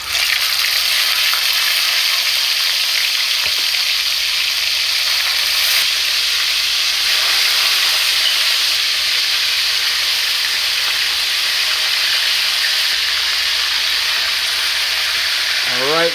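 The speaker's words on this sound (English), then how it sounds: "I'm gonna go ahead and start adding my chicken for frying." Chicken pieces fry in hot oil for soy sauce brown stew chicken, a Jamaican dish, making a loud, steady, close-up sizzle and crackling hiss that continues unbroken.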